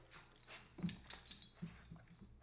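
Dogs make noise indoors in a room with soft whimpers and short yips. The sounds are faint and come in several brief bursts.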